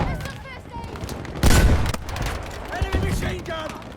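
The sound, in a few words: enemy machine gun fire in Battlefield V video game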